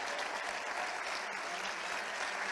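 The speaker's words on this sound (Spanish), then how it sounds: "Ese fuerte aplauso a nuestros campeones de gimnasia rítmica." Dense, steady applause from an audience at a local sports gala, honoring rhythmic gymnastics champions in Canet d'en Berenguer, sustained and even throughout at moderate distance.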